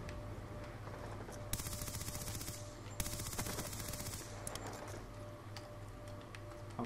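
Rapid gunfire from a Call of Duty Black Ops 2 multiplayer match, quick rattling bursts of shots fairly quiet in the background over a steady game hum.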